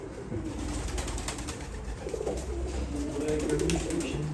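Russian pigeons coo in a loft in Istanbul, soft repeated cooing mixed into steady, dense background noise, with faint voices at times.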